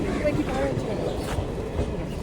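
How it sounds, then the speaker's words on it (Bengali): The Hazarduari Express pulls out of a station, heard as a steady, fairly loud rumble of rolling rail cars with faint clatter, continuous and close. "ট্রেনটা বেরিয়ে যাচ্ছে আমাদের নাভি দিয়ে, হাজারদুয়ারি এক্সপ্রেস"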